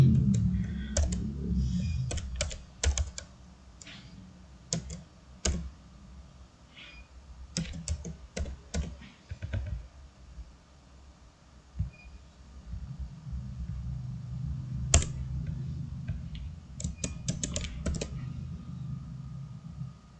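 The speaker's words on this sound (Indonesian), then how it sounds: "kita akan mengetikkan D sama dengan perintah intersect." Someone types a GeoGebra intersect command on a computer keyboard, giving close, irregular clusters of sharp key clicks with pauses between them over a low background rumble.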